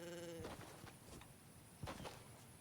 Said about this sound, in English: Was it the llama making that noise?